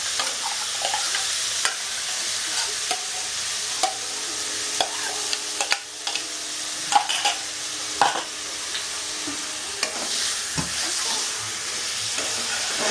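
Chicken with potato and carrot sautés in a pan, giving a continuous sizzle broken by repeated spatula scrapes and clinks while it is stirred, close and fairly loud, with no talking.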